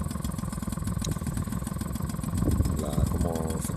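Original stock Peugeot 103 Clip moped with its small two-stroke engine idling and running steadily nearby, a continuous buzzing drone that rises slightly toward the end, with someone talking over it.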